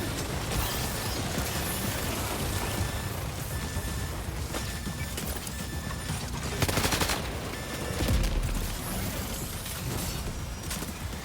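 Gunfire in the video game Death Stranding 2, rapid bursts of shots spread through dense, busy game noise, with louder impacts around the middle and near the end.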